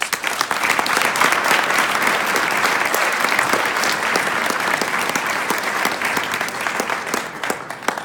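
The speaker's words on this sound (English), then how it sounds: "I want to give her a round of applause." Loud, steady audience applause at an anniversary event, with dense clapping throughout that tapers slightly at the end.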